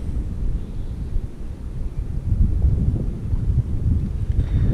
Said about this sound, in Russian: ветер не прекращается. Сумасшедший, просто дует такие порывы.